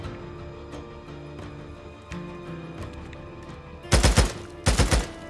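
Gunfire in the video game Days Gone: two loud, dense bursts of rapid shots close together near the end, following quieter game ambience with scattered smaller clicks and thuds.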